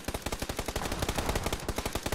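Rapid sawn-off shotgun fire in PUBG Team Death Match, a fast run of sharp, evenly spaced blasts close up with no pause, loud and continuous.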